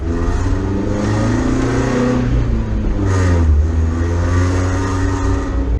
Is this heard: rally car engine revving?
yes